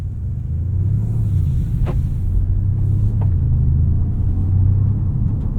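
A 2025 Porsche Panamera GTS cruising in normal mode, heard from inside the cabin as a steady low engine and road rumble with faint tire noise, even and unbroken, no talking.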